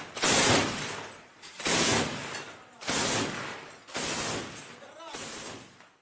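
Machine gun fire in Bakhmut during the Ukraine war, as a Ukrainian brigade fires on Wagner forces: five sustained bursts of about a second each, evenly spaced and at moderate loudness, each fading with a rough echo.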